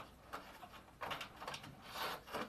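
Cured fiberglass is peeled off a plastic signboard in a few rough, rasping tearing bursts, close up and fairly quiet, with no talking.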